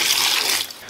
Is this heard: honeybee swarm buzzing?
no